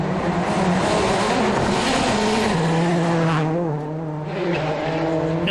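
A Peugeot 206 rally car roars flat out on a Cyprus Rally stage, its engine note surging and dropping through gear changes, loud and close with faint tyre scrabble.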